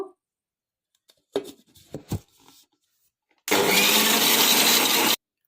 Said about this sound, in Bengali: ডিমটা একটা ফোম তৈরি করে নেব